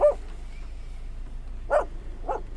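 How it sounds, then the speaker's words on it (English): A dog yaps three times, a short sharp bark at the start, then two more quick yaps near the end, moderately close over a low steady background hum, with no talking. "the dog that loved to yap"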